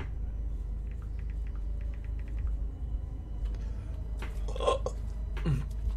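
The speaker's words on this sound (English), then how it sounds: "I had to burp." A single short burp from a person playing a video game, heard near the end over a low steady background hum with faint scattered clicks.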